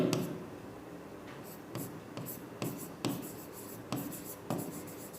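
Marker or chalk strokes on a board during an English grammar lesson, a series of short scratchy bursts in an uneven rhythm, close and moderately loud, with little talk over them.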